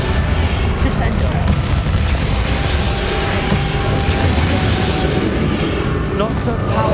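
Confringo fire spell blasting in Hogwarts Legacy amid combat, a dense, loud and continuous roar of booming explosions and crackling magic with no clear break.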